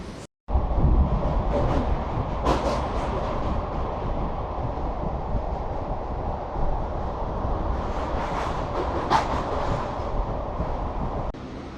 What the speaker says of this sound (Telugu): మనమైతే మెల్లిగా రోడ్డు కమ్మ రైలు బ్రిడ్జ్ మీదకి అయితే వెళ్ళిపోతున్నాము.